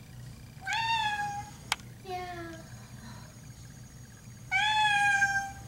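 A hairless sphynx cat meows loudly and close several times after a bath, long rising cries in separate bursts, with a brief sharp click between them and a person speaking softly.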